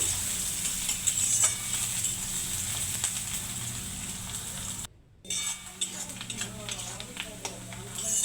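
Chopped onions fry in hot oil with bay leaves and whole garam masala, giving a steady close sizzle with stirring scrapes throughout and a brief silent break midway.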